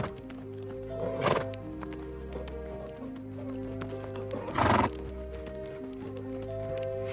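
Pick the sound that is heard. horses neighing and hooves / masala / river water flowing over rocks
horses neighing and hooves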